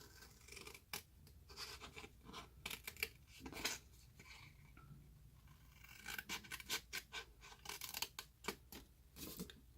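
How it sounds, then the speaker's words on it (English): Scissors snip through paper along score lines, cutting diagonally and straight across while crafting a gift card shadow box, giving a run of crisp, close cuts and rustles in irregular bursts. "Cut up the 2 score lines, cut at a diagonal, cut straight across,"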